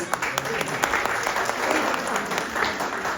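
An audience at a cultural evening in Binghamton, New York, breaks into applause, a sustained wash of clapping with a few louder claps up front and faint voices mixed in.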